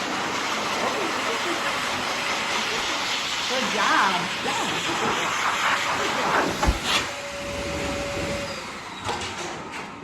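A blow dryer blasting steadily on a dog during grooming, a loud continuous hissing rush throughout, with a person briefly speaking over it.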